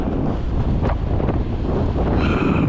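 Wind buffets a microphone outdoors on a cold, windy day in a canyon during motorcycle camping, producing a loud, continuous low rumble with occasional gusty swells.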